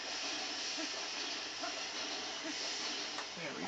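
Steam hisses from a vent in the Zelda game Twilight Princess, a steady broadband wash lasting throughout, fairly loud with no breaks and no voices over it.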